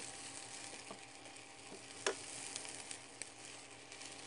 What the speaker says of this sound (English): we're going to allow these to saute for about 3 minutes